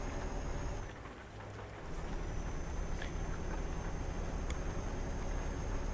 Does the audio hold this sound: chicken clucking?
no